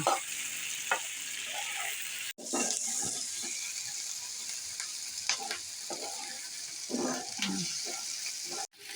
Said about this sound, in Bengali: আমার পেঁয়াজ আদা রসুনগুলি প্রায় ভাজা হয়ে গেছে।